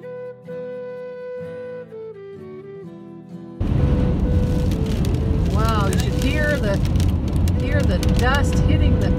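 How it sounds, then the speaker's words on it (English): Dust from a desert dust storm hits a moving car, a loud, dense roar of wind and grit against the body that rises abruptly after a quieter stretch of music and continues unbroken, with a voice speaking over it. "Dust hitting the car."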